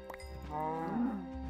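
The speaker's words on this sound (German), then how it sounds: "Hier sind ein paar Kühe." A single drawn-out cow moo from Minecraft, a low, steady bovine call that rises slightly midway, heard alone and fairly close.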